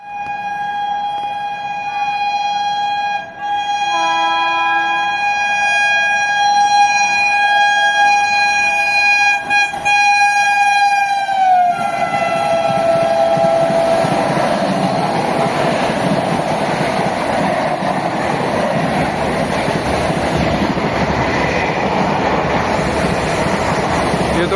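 A Rajdhani Express sounds a long, loud horn that holds steady for several seconds, then its coaches roar past close by in a continuous rushing rumble.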